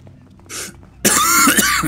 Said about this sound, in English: What was that sound? Coughing a bunch.